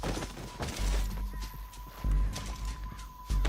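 Galloping horse hooves in Red Dead Redemption 2 pound in a fast, steady rhythm, loud and close, with a whinny and rumbling action noise around them.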